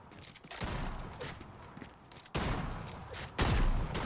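Rapid bursts of Fortnite gunfire with sharp louder shots, steady and close, with no talking.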